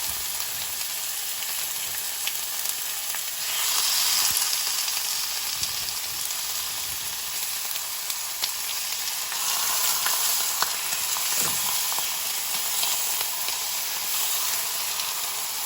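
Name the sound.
thin sirloin strips sizzling in pan for fajitas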